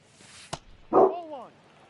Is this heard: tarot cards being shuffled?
no